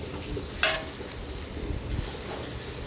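Beaten eggs for egg bhurji spread into a hot pan, giving a soft, steady sizzle with a brief louder hiss near the start and small clinks of a spoon.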